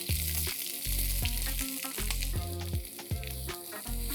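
Dry coconut and green chillies roast in a hot pan for a Marathwada-style mutton kanduri masala, giving a steady close sizzle broken by regular stirring scrapes every half second or so, with no talking.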